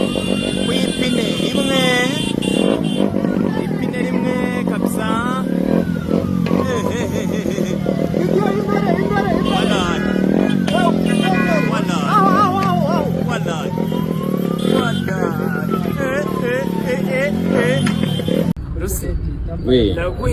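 A motorcycle riding a wheelie on one wheel at a campaign rally drones continuously at high revs, rising and falling in repeated sweeps, while people talk over it throughout.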